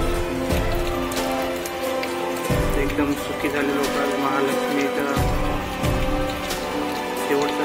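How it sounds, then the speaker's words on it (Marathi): Heavy rain pours down in a loud, continuous wash on a farm after a long dry spell, while a person talks over it nearby. "एकदम छान पाऊस जोरात मस्त पैकी."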